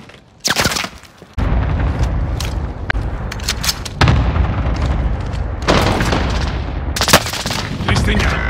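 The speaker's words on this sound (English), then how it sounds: "Taking fire over here." Loud, dense gunfire and booming blasts in the video game Warzone, with bursts of automatic fire and heavy impacts packed close together, nearly continuous and up front throughout.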